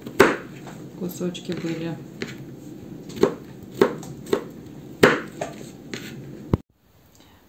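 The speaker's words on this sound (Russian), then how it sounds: "И также режем соломкой." A knife cuts salad vegetables into thin strips for a light summer salad, giving a run of sharp, irregular chopping knocks on a board beneath a woman's speech, then stopping abruptly into near silence.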